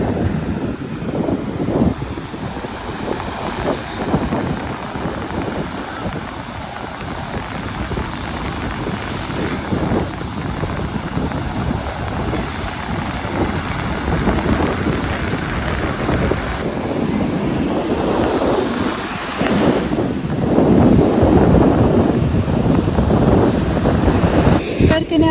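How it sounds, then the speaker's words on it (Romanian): Strong wind buffets the microphone at a beach with big waves rolling in, a steady broadband roar of gusts and surf throughout, growing louder toward the end. "Astăzi bate vântul foarte tare, așa că sunt valuri mari"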